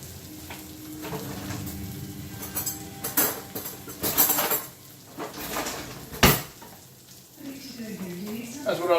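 Plating food from a sizzling pan: clinks and scrapes of utensils against pan and plate over a steady frying hiss, with a sharp clatter partway through and a voice talking throughout.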